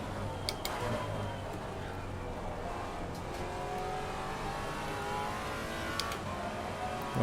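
A Ginetta race car engine in Assetto Corsa Competizione drones steadily at close range, its pitch rising and falling through gear changes, with a few sharp clicks scattered over the continuous whine.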